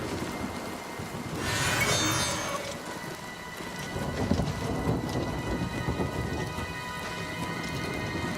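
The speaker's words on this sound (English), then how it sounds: "the rain effect is not as prominent or strong as I would have wanted" Steady heavy rain in the video game Oblivion Remastered, a dense hiss with a rolling thunder rumble building near the start and continuing low throughout, no voices.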